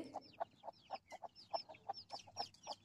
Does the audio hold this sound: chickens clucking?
yes